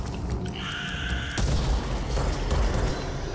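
Explosion in the Control video game: after some mechanical creaking, a sudden deep boom bursts in and rumbles on, followed by a second swell of low rumble.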